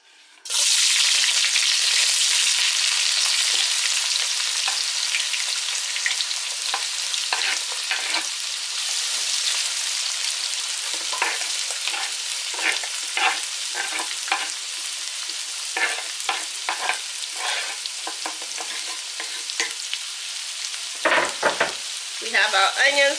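Onions hit a hot pan and sizzle loudly for teriyaki Dungeness crab stir-fry, a steady close frying hiss broken by scraping and stirring clatter throughout.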